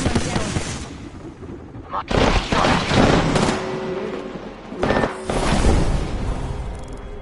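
Gunfire from a video game firefight comes in loud bursts of rapid shots with booming impacts, separated by brief quieter gaps. The sound is close and dense throughout.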